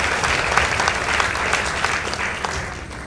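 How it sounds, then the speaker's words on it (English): Audience applause at a school debate between Dandora Girls High School and Olympic High School, a steady, dense wash of many hands clapping throughout, fairly close and even in loudness, with no talk over it. "let's also give a round of applause to Dandora Girls High School for a job well done"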